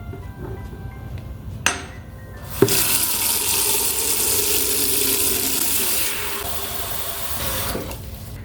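Tap water runs into a kitchen sink to make a bleach sanitizing solution. A couple of sharp clinks come first, then a steady, loud rush of water pours for several seconds before it eases off.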